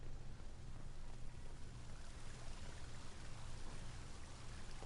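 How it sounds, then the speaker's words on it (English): A fountain in Dragon Age: Inquisition pours and splashes in a constant, faint wash of running water with no other sounds. "Fountain."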